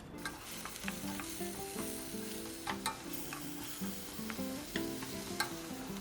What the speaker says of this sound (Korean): 들기름 2숟가락, 채 썰은 무 중불에서 볶아줍니다.